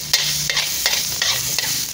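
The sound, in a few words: stir-frying minced garlic in a wok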